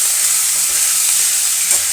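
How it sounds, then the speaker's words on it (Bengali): Potatoes, onion, tomato and chili fry in a wok while being stirred, a loud, dense sizzle with soft scraping movements running through it and no talk. "কড়াইয়ের মধ্যে সেই কেটে ধুয়ে রাখা আলু পেঁয়াজ টমেটো লঙ্কা সমস্তটা একসাথে দিয়ে একটু নাড়াচাড়া একটু আমি করে নেবো"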